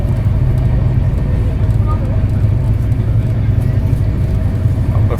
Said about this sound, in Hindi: पूरा 130 की रफ्तार पे हम करनाल स्टेशन को स्किप कर रहे हैं